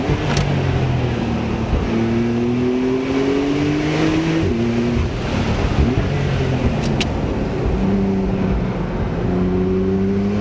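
A 420 hp Porsche 991.2 Carrera S engine pulls hard on a road, loud and close, its rising pitch climbing steadily through several gear stages with brief shift breaks, with no talking over it.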